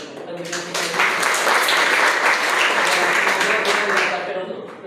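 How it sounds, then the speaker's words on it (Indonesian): Applause fills a classroom during a personality psychology lesson, a steady clatter of hands lasting the whole stretch, with voices of the teacher and students speaking over it. "untuk tepuk tangan ya"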